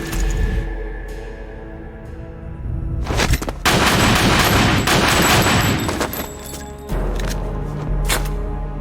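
Gunshots from Metal Gear Solid: The Twin Snakes ring out in a few sharp, loud bursts over a steady low game ambience, spaced irregularly across the stretch with no voices.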